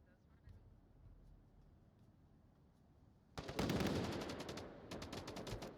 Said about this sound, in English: a lot of explosive gunfire going from the roof down to the center objective there